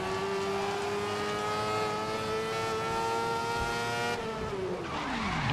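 Formula race car in the racing video game GRID, its engine holding a loud, steady high-pitched whine that sweeps down near the end as the car slows, with no talk over it.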